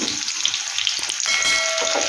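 Chopped garlic and a spice paste sizzle in hot oil in a pan, a steady close frying hiss that swells louder partway through, with no talking.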